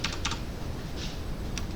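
Keys on a Korean-layout computer keyboard are pressed in a few quick, light clicks over a quiet room hum, with short pauses between the taps.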